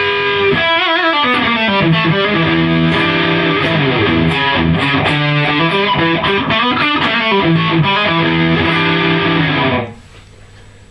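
Electric guitar through a Suhr Riot distortion pedal plays a sustained, saturated lead line with bending and gliding notes, loud and steady throughout, then cuts off near the end leaving a faint ringing tail.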